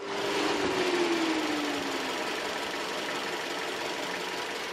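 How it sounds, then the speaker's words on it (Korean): A steady gasoline SUV engine idle with a smooth, even hum and a faint descending whine early on, running continuously with no talk, radiator fan running, heard with the hood open. "엔진 소리도 정숙한데요 바로 엔진 소리 한번 들려드릴게요"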